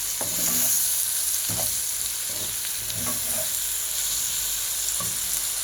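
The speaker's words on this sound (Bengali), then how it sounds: "এখন আমি ভালোভাবে এটা নেড়ে চেড়ে দিব।" Spices, chopped green chilies and tomato sizzle steadily in a hot pan while a utensil stirs them in several distinct scraping strokes, close and alone with no talk.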